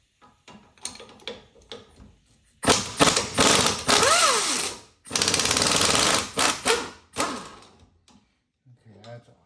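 Loud bursts of mechanical ratcheting and clattering, as a ratchet with a 15 mm socket works loose a bolt underneath a 2008 Silverado 1500 4x4, in several long runs separated by short pauses.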